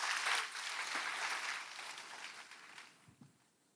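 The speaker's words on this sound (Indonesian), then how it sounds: "Tepuk tangan buat Tuhan Yesus" A congregation applauds during a church worship service, a soft, distant round of clapping that fades out over a few seconds.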